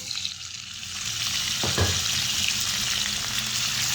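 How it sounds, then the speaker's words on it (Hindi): Chicken pieces frying in hot oil in a pan, a loud steady sizzle with a stirring clatter in the middle, close and uninterrupted, without voices. "अब हम इसके अंदर चिकन ऐड करेंगे।"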